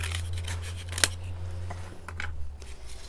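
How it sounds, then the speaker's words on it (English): Scissors snip through squished toilet paper tubes, cutting them in half, with a few crisp cuts, one sharper snap standing out, over a low background hum and light handling noise, close up and without speech. "I'll take toilet paper tubes and I'll just squish them and cut them in half like this."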